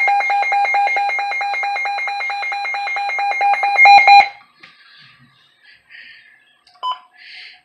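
Weather radio alert test tone: a loud, steady pulsing electronic beep repeats rapidly for about four seconds, then cuts off, followed by faint handling clicks and rustles.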